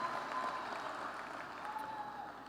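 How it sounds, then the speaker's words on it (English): An audience applauds, with soft, even clapping from a distance that carries on throughout and fades slightly near the end. "give yourselves a round of applause for that"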